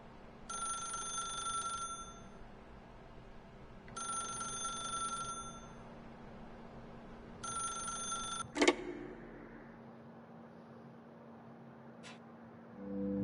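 Three evenly spaced bursts of an electronic telephone ring in the video game The Stanley Parable, each lasting about a second and a half, followed by a sharp click, quiet room tone and a rising low rumble.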